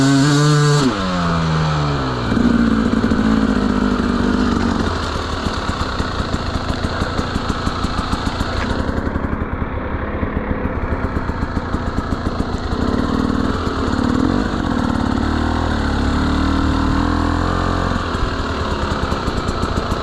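A Gasgas EC300 enduro motorcycle on a ride around Sboryanovo, its engine running steadily and loudly close by the whole time, with a rapid, rattling pulse.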